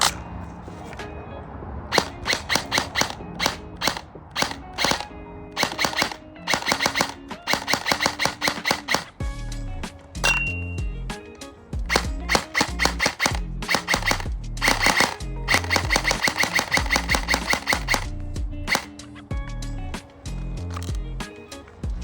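A Classic Army Bushmaster airsoft DMR fires through a full magazine in loud, close bursts of rapid clattering shots separated by short pauses, with sustained strings of fire across the whole stretch and no talk over it.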